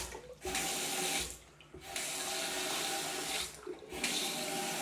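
Water streams from a stainless steel vanity faucet with strong pressure, a steady hiss that cuts off briefly twice and resumes, close and loud with no talking.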